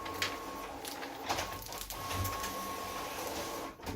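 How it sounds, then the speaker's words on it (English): A home printer rattles and whirs noisily in the background, a steady mechanical churn with a few louder surges, no one speaking over it. "that's my printer going crazy in the background"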